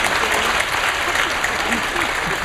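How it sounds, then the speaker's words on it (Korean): A church congregation applauds a newly appointed pastor, a dense, steady wash of many hands clapping at once, loud and sustained without a break from start to finish. "박수하겠습니다"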